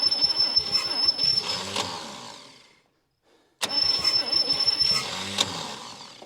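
The starter of a 1959 Chevy Biscayne, left sitting 20 years in a Kansas lean-to, cranks the engine in two loud, churning bursts split by a brief silence, never catching.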